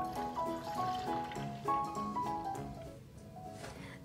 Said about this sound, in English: I've got some whole milk. Pour it in.